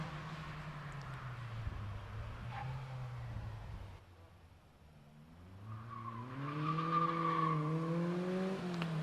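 A Caterham race car runs a Prescott hill climb course, its engine droning at a distance, then dipping and rising again in rising gear pulls, faint and fairly far off.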